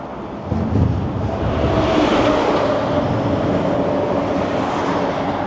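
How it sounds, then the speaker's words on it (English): A train rolls past near the Humber Bridge, heard as a steady rumble and hum beneath constant wind buffeting the microphone on an open bridge walkway. "See the train there?"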